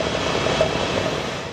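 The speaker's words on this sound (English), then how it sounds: "Military helicopters were brought in to Wainfleet to assist emergency services" Military helicopters fly over a flooded village in Wainfleet, England, a loud, steady rotor roar with no talk.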